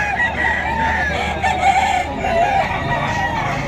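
A Sweater Gilmore bloodline rooster crows loud and close at a busy Bocaue, Bulacan poultry market, one drawn-out call over a murmur of crowd noise.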